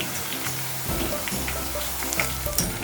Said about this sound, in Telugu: ఇలా ఫ్రై అయ్యేంత వరకు ఫ్రై చేసుకుంటే సరిపోతుందండి.